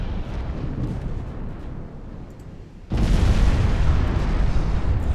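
Enemy battleship Malaya is destroyed in the naval warfare game Ultimate Admiral Dreadnoughts, a rumbling background that jumps abruptly into a loud, sustained roar of explosion and fire midway, with no talk.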